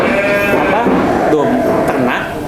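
Garut sheep bleat close by in a series of wavering, drawn-out cries that fill the whole stretch, loud and near.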